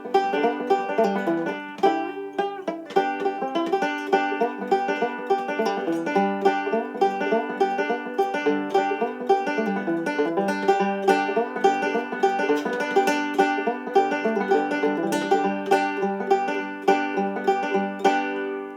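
Scruggs-style bluegrass banjo picking a fast rendition of the fiddle tune Cripple Creek, steady rolling three-finger notes ringing out close and bright for the whole stretch, with no talking over it.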